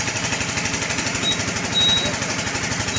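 A sugarcane crushing machine used for traditional jaggery making runs loudly and close by, producing a fast, steady mechanical chugging throughout with no talk.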